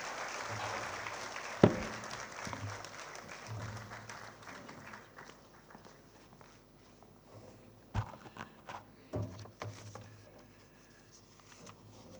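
Audience at a Defence Estates Day 2025 ceremony applauding to welcome the defence minister to the stage; a moderate, distant patter of clapping that fades over time, broken by a few sharp knocks and thumps.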